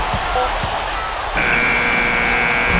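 At a Heat versus Hawks NBA game in the American Airlines Arena, a long, loud end-of-quarter buzzer sounds midway through, holding steady over arena murmur and a couple of ball thuds.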